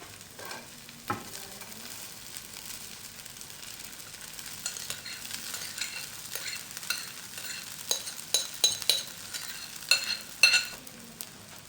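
Boiled rice going into a hot pan of frying chicken fajita with vegetables, a low steady sizzle broken by scraping stir strokes that grow louder and more frequent toward the end.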